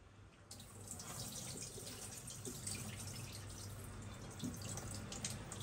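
Tap water runs steadily into a kitchen sink while food is rinsed, a soft continuous splash with occasional drips, faint and close with no talk over it.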